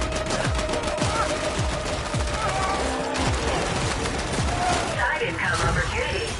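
Rapid bursts of automatic gunfire from the video game The Ascent, dense, loud and continuous, with overlapping shots and clattering impacts throughout.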